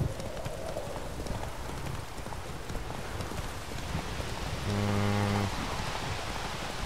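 Horse hooves gallop in a steady clip-clop rhythm in The Witcher 3, with a rain-like hiss running underneath and a brief held tone near the end.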